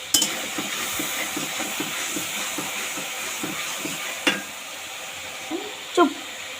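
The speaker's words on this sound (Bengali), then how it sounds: "স্বাদ মতন লবণ কিছুক্ষণ কষিয়ে নিব" Spiced meat curry frying while being stirred, a steady close hiss with a soft scraping rhythm and a couple of sharper clacks from the utensil against the pot.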